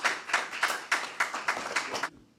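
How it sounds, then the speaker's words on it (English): A small audience gives a round of applause for Officer Scott Bousquet at a community conversation, about a dozen distinct, fairly close claps in a quick even rhythm before stopping abruptly. "please give a round of applause for Officer Scott Bousquet"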